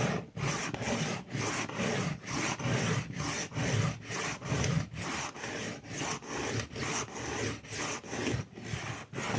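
Knife being sharpened on a diamond stone, with steady rhythmic rasping strokes, about two per second, close and alone for the full length.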